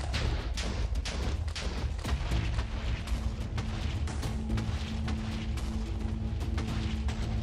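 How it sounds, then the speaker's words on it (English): Distant explosions in a video game: a continuous barrage of deep booms and rumbling thuds, many overlapping blasts rolling on at steady volume, with a low hum running underneath. "Lovely sound of explosions in the distance."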